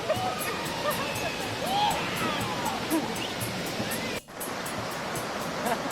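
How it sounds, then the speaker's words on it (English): Rushing water from rapids and waterfalls on the Lacandon River in a Mexican jungle, heard during rafting as a loud, continuous roar with wind buffeting, a brief dropout near the end, and faint bird calls. "As our little expedition raced down the Lacandon River, the waterfalls and rapids got progressively more and more exciting."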